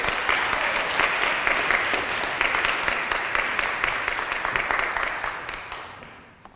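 Sustained applause from a chapel audience welcoming a speaker, dense and loud from the start, then gradually thinning and fading out over the final seconds.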